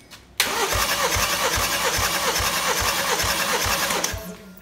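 A BMW N20 2.0-litre engine cranks with a starter for about four seconds during a compression test, a steady rhythmic chugging of regular pulses that starts and stops abruptly, with no talking.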